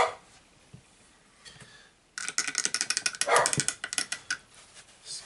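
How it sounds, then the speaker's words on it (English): Dogs bark in a quick, loud run of repeated barks after a quiet start, sounding somewhat distant as if from outside a room. "Dogs are barking."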